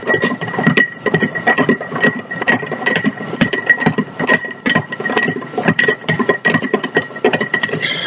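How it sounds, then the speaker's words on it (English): A metal bar spoon stirs an Old Fashioned cocktail in a glass, tracing the inner edge for about twenty revolutions, giving a steady, continuous clinking and scraping rattle close up. "the best way to stir this cocktail is just placing your bar spoon into the glass and tracing the edge of the spoon along the glass"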